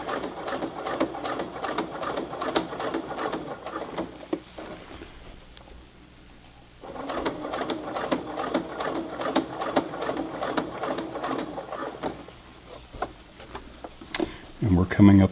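A Brother PC 420 sewing machine hems jeans on a long stitch, its rapid ticking stitches running in two bursts separated by a brief pause, with talk between and over them.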